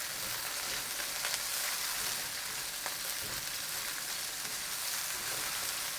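Chunky garlic and onion sizzle in a hot wok with a steady, even hiss that runs the whole time, close and dense, broken only by faint clicks of stirring.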